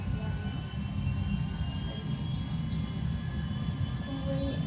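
A giant airplane takes off on a runway in Grand Theft Auto V, with a steady loud roar of jet engines that holds evenly throughout and no speech over it.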